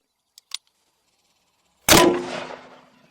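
.44 Magnum round striking a metal target: two faint clicks, then a single sharp, loud gunshot crack with a ringing metallic decay that fades over about a second.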